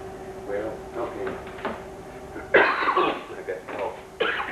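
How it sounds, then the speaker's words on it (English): A person coughs several times in rough, throaty bursts, loud and close, with a brief pause between the later coughs; a faint background hum continues under them. "I got cough."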